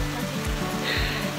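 Heavy rain pours steadily at a safari park, a dense, continuous hiss of drops on surfaces close by, with low rumbling underneath and no talking.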